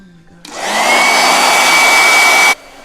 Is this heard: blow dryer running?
yes